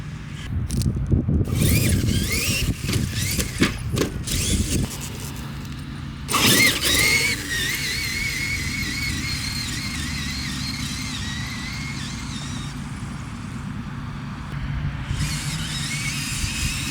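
Traxxas Xmaxx 8s Widemaxx RC car revving its electric drive in bursts while pulling reverse wheelies, with whining motor, gear noise and tyre scrabble on the ground, some short loud bursts and gaps.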